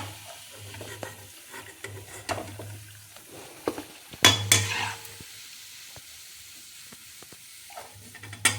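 Banana flower vadai fry in hot oil with a soft, continuous sizzle, punctuated by scraping stirs and light metallic clinks of a utensil against the pan, close by and without talk.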